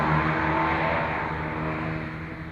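MG race cars accelerating at Croft circuit, a loud close roar of several engines blending into a dense, steady rumble that fades slightly as they pull away.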